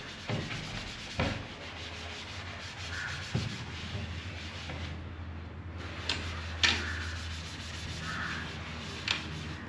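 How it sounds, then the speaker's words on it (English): Kitchen surfaces are scrubbed by hand, a steady rubbing scrape with occasional sharper knocks and clicks, fairly close and quiet, with no talking. "You need to scrub all this"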